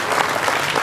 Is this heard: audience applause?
yes